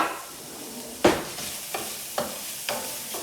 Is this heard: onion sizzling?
yes